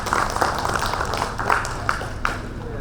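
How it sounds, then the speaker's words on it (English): Audience applause at a chartered accountants' technical session, a steady wash of many hands clapping at moderate volume with a few sharper claps standing out. "Give once again a round of applause for the sir."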